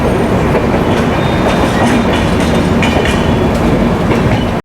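A passenger train with a parcel van runs close by on the Neelanchal Express route, a loud, continuous rumble of wheels with rhythmic clickety-clack over the rails, steady throughout with no voices.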